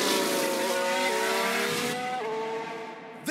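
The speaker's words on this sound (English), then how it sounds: "We've had a crash." Racing cars in F1 Manager 2022 scream past at high revs during a crash, with engine pitch dropping through gear shifts in layered, overlapping whines, ending in a short abrupt noise.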